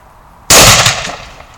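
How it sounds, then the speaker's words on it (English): A homemade 12 gauge shotgun fires a shell once, up close and loud: one sharp blast with a short ringing decay, preceded by a quiet lull. "hits the firing pin, and detonates the shotgun shell"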